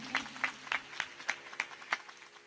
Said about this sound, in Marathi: सगळ्यांनी एकदा जोरदार टाळ्या वाजवा सर्वांकरिता